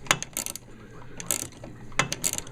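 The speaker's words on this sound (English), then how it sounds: "I've got a nifty ratcheting box wrench here" A ratcheting box wrench turns a nut at the top of a spring and damper assembly on a car's lower control arm, giving repeated crisp metallic clicking bursts in a quick irregular rhythm, close and fairly loud.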